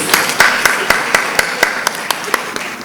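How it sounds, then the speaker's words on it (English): Seated attendees at an annual law conference clap in a hall, with a few distinct sharp claps standing out over a softer continuous patter. "you deserve a round of applause for yourselves"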